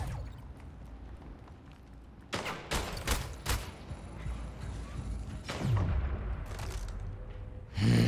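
Gunfire from a weapon in an online shooter game: bursts of sharp, loud shots arrive in clusters after a quieter stretch, with thuds and other game noise between them.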